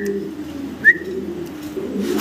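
A pigeon gives a single short coo nearby, with a low steady hum of background noise around it.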